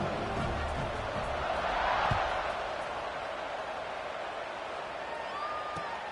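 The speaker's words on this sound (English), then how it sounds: "this crowd is buzzing after that last score" Football stadium crowd buzzing after a touchdown at a college football game, a broad sustained murmur of many voices with a slight swell, heard from a distance.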